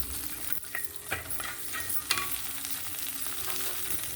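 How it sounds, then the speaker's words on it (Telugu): Spices for tempering, including dried red chillies, sizzle quietly in hot ghee while a spoon stirs them, giving soft crackling with a few sharp clinks and scrapes. "ఇది నేరంటకాయల కూరకి పోపు"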